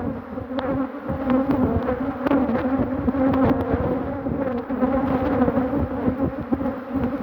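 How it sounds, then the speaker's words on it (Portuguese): A dense swarm of bees hums loudly and close, a thick continuous buzz with individual insects passing near, and no talking. "Muita abelha, Cássio, muita abelha, muita abelha"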